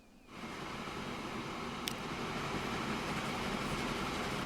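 Trains in the video game Transport Fever 2 rumble steadily once the sound fades in, with a continuous rolling rail noise and one brief high squeal midway. No one talks over it.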